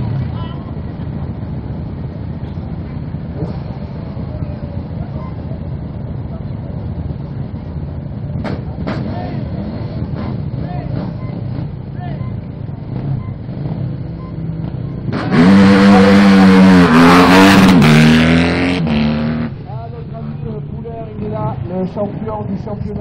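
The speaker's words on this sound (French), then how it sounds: "premier quad à s'élancer" A racing quad bike launches into a hill climb run at a French hill-climb event, its engine rising to a loud, brief roar over steady background noise and an announcer's commentary.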